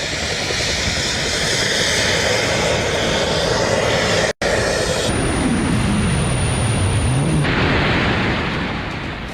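A jet suit's engines carry a person into the air with a loud, continuous roar. The pitch sweeps down and back up, and a brief dropout interrupts the sound midway.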